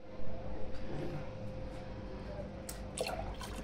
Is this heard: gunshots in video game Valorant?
no